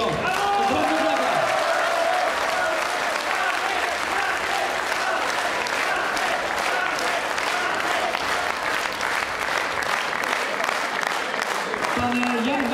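A crowd at a Polish election rally applauds a Senate candidate: long, loud, continuous clapping from many people, with some voices and cheers mixed in.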